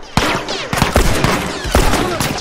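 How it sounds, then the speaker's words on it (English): Several bursts of gunfire ring out in The Last of Us Remastered, loud, sharp volleys arriving roughly every second and a half. "I thought somebody was shooting me from behind."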